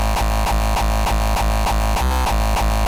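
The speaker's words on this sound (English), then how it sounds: "this basically makes a higher pitched noise because it's looping faster" A fast-looping kick sample from a hardcore or frenchcore production repeats in a rapid, steady rhythm of loud, distorted, higher-pitched thumps, dense and buzzing throughout with no voices.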